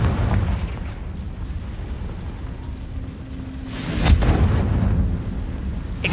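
A Confringo spell explodes in Hogwarts Legacy with a sudden booming burst that rolls and fades into rumble, rising above a steady, noisy game background.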